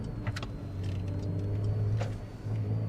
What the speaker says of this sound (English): So Sport Plus mode here, by the way, also shifting down with this throttle blip, really cool